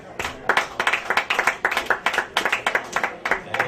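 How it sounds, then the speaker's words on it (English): A small comedy-show audience in Crown Point claps, producing a quick, uneven patter of individual hand claps that stays brisk and fairly close throughout. "Give yourself a round of applause again."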